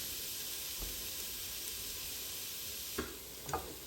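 Sausage, onion, celery and garlic searing in a pot, a steady close hiss of frying with a few soft stirring knocks near the end and no talk.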